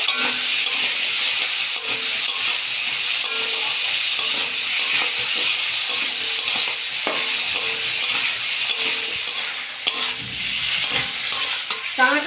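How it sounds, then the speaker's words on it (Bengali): Potatoes with tomato and onion fry in a pan, a steady bright sizzle throughout with occasional stirring scrapes, close and continuous, no talking. "পেঁয়াজের সঙ্গে আলু বেশ ভালো করে একটু ভেজে নিয়েছি"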